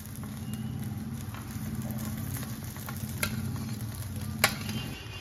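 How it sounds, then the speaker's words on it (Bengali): Chowmein being stir-fried in a wok with vegetables, egg and nuts, a steady moderate sizzle with occasional scraping and clinking from stirring, close and without speech. "লাস্ট এবার আমি কড়াইয়ের মধ্যে চাউমিনটা দিয়ে নাড়াচাড়া করে তারপরে সবজিগুলো দিয়ে চাউমিনটা রেডি করব"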